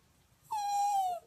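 A dog gives a single drawn-out, cat-like meowing whine after being told to speak, a clear tone lasting under a second against a quiet room.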